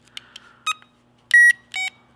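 Several short electronic beeps from a Power Probe 3 circuit tester, close and clear, the last two longer tones, separated by quiet gaps with faint clicks in between.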